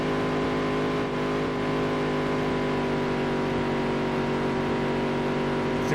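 Dirt-track race car engine in the Dirt to Daytona racing game, roaring at sustained high revs as it closes in quickly during a late-race charge, loud and continuous without speech.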